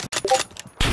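Several sharp gunshots from an M24 sniper rifle in a shooting video game, short punchy bursts, then a louder broadband blast near the end, with no one talking.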